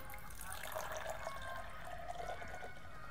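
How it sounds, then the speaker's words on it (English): Punch pours into a glass at a quiet Halloween party, a soft, steady trickle of liquid that stays faint and even for a few seconds with no voices. "Let me pour you a glass of punch."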